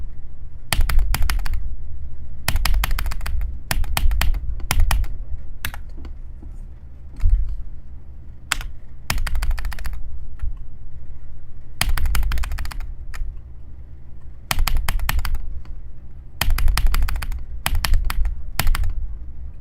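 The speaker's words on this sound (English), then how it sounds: "I'm spam clicking and I can't hit any of the orbs." Rapid bursts of mouse clicking while playing Magma Bound, loud and close, coming in dense clusters of quick clicks separated by short pauses, with a faint background hum and no talking.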